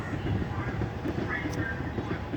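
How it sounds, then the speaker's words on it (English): A train rumbles by steadily in the distance in Washington DC, a continuous low roar with faint rhythmic clatter running the whole way through. "Let me get a picture of the trains going across there"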